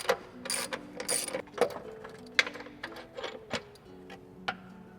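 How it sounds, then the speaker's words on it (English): Quiet, irregular ratchet clicks and metallic ticks come from a wrench working 17mm bolts loose on a Honda S2000 upper control arm, in short bursts with pauses between them. "Now I'm gonna remove these two 17mm bolts"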